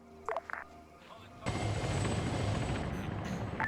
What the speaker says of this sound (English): we can land the 2 helicopters and leave.